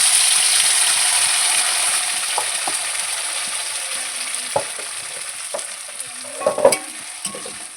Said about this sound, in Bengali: মশলাটাকে আমি ভালো করে ভেজে নেবো